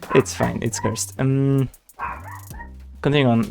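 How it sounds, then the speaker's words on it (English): A pet dog barks and yelps indoors in several loud, drawn-out bursts, mixed with a person talking nearby. "Sorry for my dog once again. He's gonna bark a bit."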